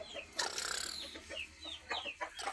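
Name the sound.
chickens and chicks clucking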